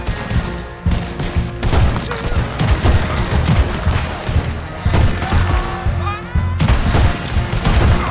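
Gunfire in the video game Red Dead Redemption 2, a rapid, dense barrage of loud close shots and bursts with short pauses between volleys, continuing throughout the scene.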